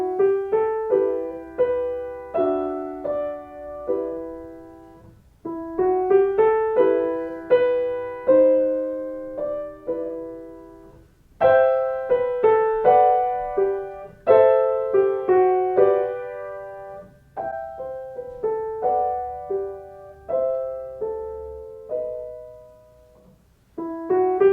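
Solo piano plays Kabalevsky's Song Op.27 No.2 in a home piano studio, a gentle melody of clear, decaying notes over soft chords, phrased in short groups with brief pauses between.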